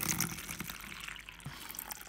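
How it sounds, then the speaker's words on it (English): Water pours softly into a tarantula's water dish, a faint continuous trickling and splashing that lasts a couple of seconds, heard up close with no talk. "since you guys love the sound of water so much"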